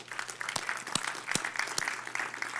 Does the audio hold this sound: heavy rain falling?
no